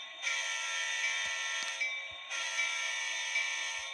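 A small electronic model train horn sounds in two long blasts separated by a brief pause, a reedy buzzing tone at moderate volume with no speech.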